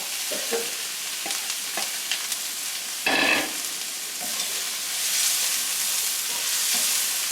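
Poblano peppers char in a pan over low to medium heat, a steady close sizzle with occasional pops and a brief burst of louder frying partway through as they are moved, with no voices.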